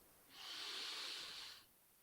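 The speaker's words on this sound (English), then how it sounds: "something as simple as a few key breaths" A single long, steady breath, airy and hissing, swells in, holds for over a second and fades away, close and soft with no talk around it, taken as a slow, deep mindful breath.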